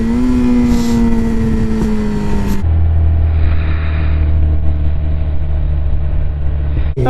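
Motorcycle engine running loud and steady under a helmet camera, with revving and a gear change as the rider accelerates out to pass other vehicles on the road; no talking.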